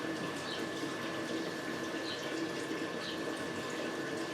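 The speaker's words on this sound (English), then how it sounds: "you can see bubbling in the first jar" Apple pie moonshine bubbling through spiced thumper jars in a still setup: a steady, low, continuous watery gurgle and hiss with no distinct individual pops, close by and alone.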